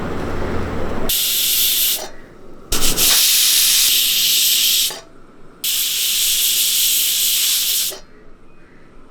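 Three long bursts of hissing steam from a pressure cooker whistle while cooking green gram (mung beans), loud and close, separated by short quiet gaps.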